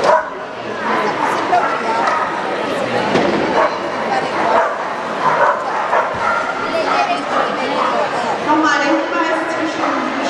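At the large-dog individual event of the 2010 FCI Agility World Championship, dogs bark and yip amid a busy arena crowd, with excited barks and whimpers mixed under continuous commentary and chatter.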